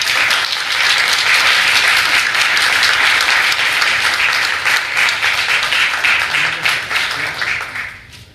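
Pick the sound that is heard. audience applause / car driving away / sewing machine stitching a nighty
audience applause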